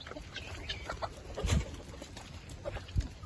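Chickens and roosters around a farm during rain, sounding as scattered low clucks and brief calls over a steady wet background hiss, with a couple of louder bursts nearby.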